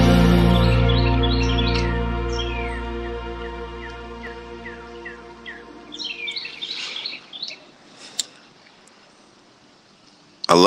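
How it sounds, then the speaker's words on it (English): Birds chirp outdoors in a series of quick, high tweets, first layered over a fading sustained musical tone, then more scattered and clear as the tone dies away. "The sound of birds chirping in the background"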